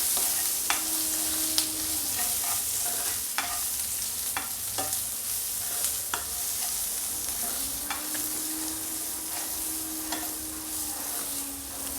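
Soybean manchurian mixture stirred in a pan, a low steady sizzle punctuated by sharp spatula taps and scrapes at irregular intervals, close and alone with no talking.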